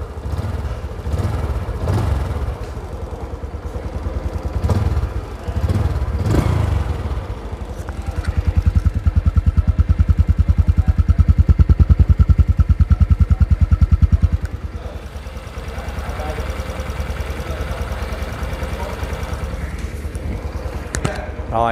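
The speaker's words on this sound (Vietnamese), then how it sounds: "mời các bạn nghe tiếng máy nha. Anh nghe tiếng máy luôn nha. Mình chỉ nẹt nhẹ thôi." A 2022 Honda Wave 125i motorcycle idles close by, then is lightly revved into a steady, louder run for several seconds before settling back, with someone talking over it.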